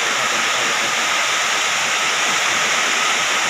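Heavy rain pours down in a loud, unbroken hiss, a dense roar that stays constant from start to finish.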